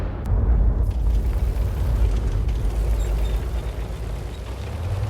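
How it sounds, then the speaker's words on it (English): An M40/M43 155mm self-propelled artillery gun fires and its shell strikes in World of Tanks, heard as a sharp near boom followed by a long, loud, rumbling roar that slowly fades over several seconds. "She's ready. Rounds out. Direct hit."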